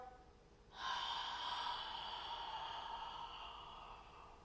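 A single long exhale during a ribcage breathing exercise starts abruptly and streams out as a steady, close, airy rush that slowly fades.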